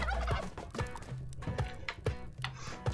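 Turkey gobbling in the video game Spelunky 2, a few quick gobbles repeating among game sound effects and footsteps, fairly near and clear with no talk over it.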